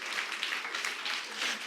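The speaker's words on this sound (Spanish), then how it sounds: "Dale un aplauso al Señor si puede" A church congregation bursts into applause during a sermon, a dense and continuous clatter of many hands that swells and eases slightly across a short stretch, with no talking.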